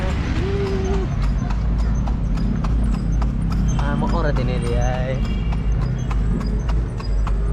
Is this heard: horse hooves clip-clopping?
yes